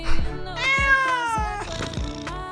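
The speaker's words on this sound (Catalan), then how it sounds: "Gata maula." A female cat meows in several drawn-out, wavering calls, close and fairly loud, with one stretched cry in the middle.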